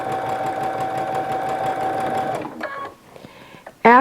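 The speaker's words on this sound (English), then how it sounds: "go ahead and do your basting stitch about" A sewing machine runs a basting stitch on a headband, its needle chattering in a fast, steady, close rhythm for a few seconds before slowing and stopping, with a sharp mechanical clack at the end.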